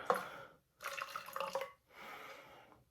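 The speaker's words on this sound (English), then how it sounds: "You're going to pour just a little bit of water in it, enough to coat the bottom" Small amount of water poured into an empty water bottle for a homemade lava lamp, heard as three close, splashy bursts of pouring and trickling separated by brief pauses.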